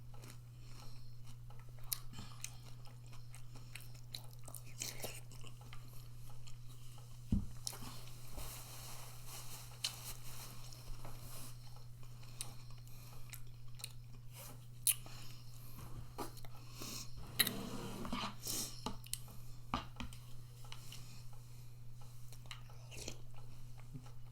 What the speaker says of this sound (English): There's not much crunching because it really has these croutons